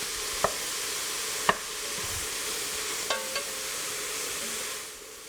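Mushrooms, onions and garlic sauté in butter with a constant bright sizzle, punctuated by a few sharp utensil clicks and taps against the pan.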